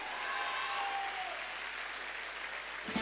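A hall audience at a company speech event applauding in a steady, dense wash of clapping that holds at an even level throughout, moderately loud and without talk.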